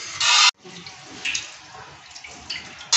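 Tap water runs into a kitchen sink while grated carrots are washed for carrot halwa, a loud splashing gush that cuts off abruptly, then a softer, steady trickle with occasional splashy surges.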